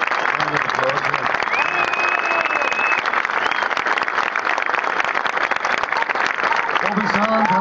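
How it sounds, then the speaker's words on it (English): A crowd at a hunger strike commemoration march in Queens Park, Glasgow, applauds continuously for several seconds, with voices and whistles mixed into the clapping. "So give them a big round of applause here."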